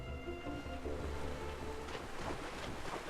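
Soft, steady watery wash and rushing ambience from Owlboy, faint and continuous under a low tonal game drone, with no talking.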